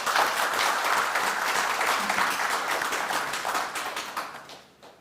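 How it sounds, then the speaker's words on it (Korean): Fairly quiet applause from a breakfast forum audience of a Korean defense industry society, sustained clapping that gradually fades away over the final second. "큰 박수가 필요합니다."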